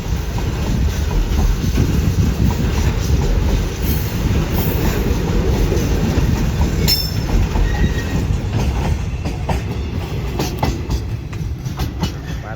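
Trains pass each other at a small rural railway station in Thailand, with a steady close rumble of rolling wagons and wheels throughout, brief high wheel squeals and some clatter later on.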